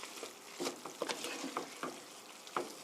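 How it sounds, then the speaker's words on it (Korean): Vegetables for chicken spaghetti being stirred in a pan after releasing their water, with soft sizzling and a series of scraping, tossing strokes at an irregular rhythm, close and moderately quiet. "이렇게 채소에서 물이 어느 정도 많이 나왔으니까 이렇게 한번 이렇게 뒤섞어 주시고요"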